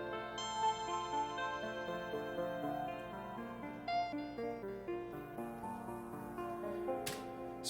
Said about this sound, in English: I'm using Studio One's appreciator here, and it's just doing eighth notes and 2 octave ranges.